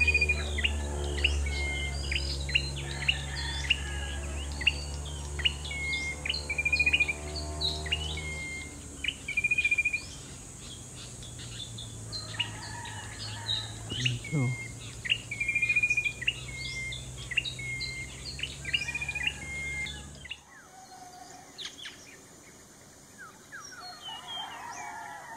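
Wild birds such as golden-bellied gerygones, pipits and herons call around Tarlac Recreational Park in the Philippines. Steady repeated chirps and tweets continue throughout over a low constant drone that cuts out near the end.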